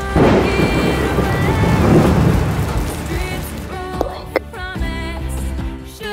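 Steady rain with rumbling thunder from a storm over a small town, continuous and loud throughout, with a few sharp cracks near the end.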